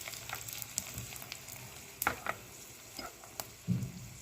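Mustard seeds, cumin, dried red chillies and asafoetida sizzle in hot oil for a tempering, a steady close crackle with scattered pops and a few stirring scrapes.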